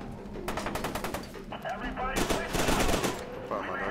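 Rapid automatic gunfire from the video game F.E.A.R. 2: Project Origin, bursts of close, loud shots in quick succession followed by heavier sustained firing and impacts.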